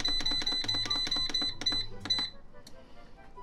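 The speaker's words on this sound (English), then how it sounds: "now into the air fryer. We are going to do 360 for 5 minutes" An air fryer being set to 360 degrees for five minutes for pizza rolls gives a quick run of sharp electronic beeps, close and fairly loud, then a short fainter tail.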